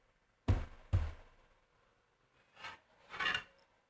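Phillips head screws being removed from the metal shield inside a Game Gear handheld, heard as two sharp close knocks followed by two softer scraping turns, with no talk.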